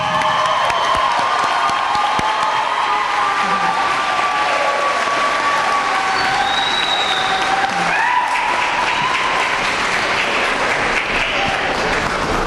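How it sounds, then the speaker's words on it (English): Loud, sustained applause for graduates at a Wilson graduation ceremony, a large audience clapping steadily with cheers and whoops rising above it throughout. "Please join me in giving them a round of applause."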